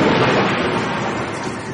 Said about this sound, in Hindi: बरसात में अचानक गरजती हुई बिजली की आवाज से टूटी